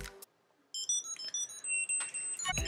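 A MYNT ES Bluetooth tracker rings with a quick, high, chirping electronic melody that starts after a brief silence, fairly quiet and close by.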